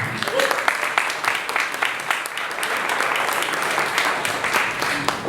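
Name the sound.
audience applause for the facilitator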